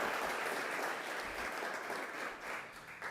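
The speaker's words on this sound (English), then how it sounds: "We can clap for that." Audience applause at a university quantum investment summit in College Park, a dense, steady wash of clapping from a sizeable crowd filling the whole stretch without a break, fading only slightly toward the end.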